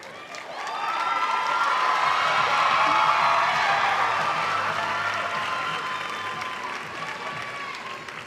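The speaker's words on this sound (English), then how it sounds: "let's have one more round of applause for all of our contestants" Pageant audience at Miss Arkansas 2018 applauding its contestants, swelling to a broad round of clapping with some cheers and a faint musical undertone, then easing off.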